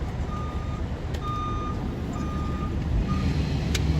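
An advertising truck rolls past outdoors, its steady intermittent reversing beeps sounding over a low engine rumble, moderately distant and with no talk.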